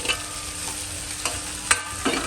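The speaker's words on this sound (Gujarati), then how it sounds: "આપણે બરાબર હાવ મિક્સ થઈ જાય ને ત્યાં સુધી હલાવી લઈએ" A spoon stirs mashed potato masala with cumin, asafoetida and turmeric in a pan, giving a soft steady sizzle with a few distinct scraping strokes spread across the moment, no voices.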